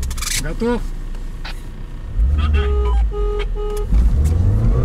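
A Lada Niva's engine roars and rises at the start of a 4x4 off-road drag race, loud and close, with horn-like tones and excited voices talking over it.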